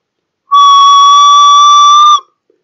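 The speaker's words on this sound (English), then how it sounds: "So let me blow a whistle and see does it get detected or not." A whistle is blown once by someone testing a PIC16F877A sound detection circuit, giving one loud, steady shrill tone of about a second and a half, heard alone with no talking.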